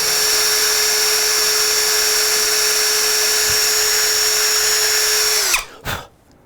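A power drill bores through a chirper, a steady loud whine holding pitch for several seconds before spinning down abruptly, followed by a couple of brief clunks and handling noises.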